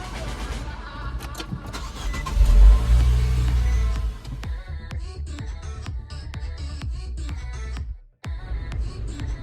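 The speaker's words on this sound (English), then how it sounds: "It's time to crank up the car for the very first time." A 2012 Nissan Juke engine cranks and catches, a loud close starter whir rising into a deep rumbling idle, followed by a steady running engine with clicks and a brief drop near the end.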